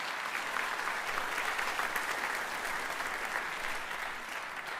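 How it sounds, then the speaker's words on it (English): Steady, sustained applause from a commencement audience in a college hall, dense and even throughout with no talking over it, tapering only slightly at the end. "Let's give them a round of applause"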